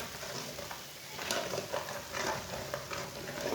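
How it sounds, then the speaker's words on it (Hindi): Ground spices frying gently in a pan over low heat for an aloo palak curry, a soft steady sizzle with light stirring scrapes, fairly quiet and close, no talking. "मसालों को लाजमी हल्की सी आंच पर थोड़ा सा पका लेना।"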